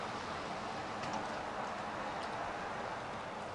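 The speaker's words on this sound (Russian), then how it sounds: "Все капает с крыши." Steady, dense patter of rainwater dripping from a roof outdoors at 1 degree with icy ground, continuous and even with a few sharper ticks, no voices.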